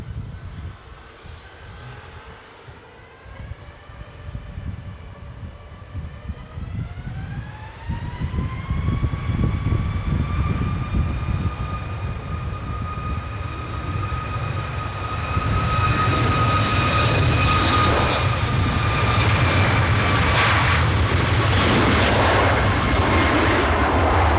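An airliner's jet engine starts up at Edinburgh Airport with a whine that climbs in pitch over several seconds, then settles into a steady high-pitched tone over a low rumble. The roar swells louder in the second half.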